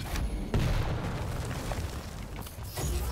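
Rocket explosions in a Quake-style arena shooter during an esports tournament match, heard as several muffled low booms in a quick burst over a continuous rumbling game background, fairly faint overall.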